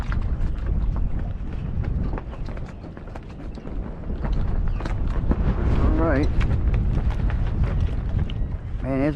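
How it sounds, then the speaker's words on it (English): Steady gusting wind buffets the microphone out on open water during a flounder fishing trip at outgoing tide, a broad rumbling roar that persists throughout with a brief voice near the end. "Man, it's breezy, breezy, breezy."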